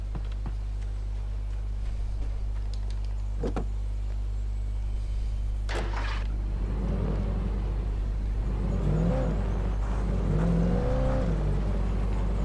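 Game car engine with a steady low hum throughout, swelling into a louder revving run in the second half with rising and falling engine tones, alone with no talk.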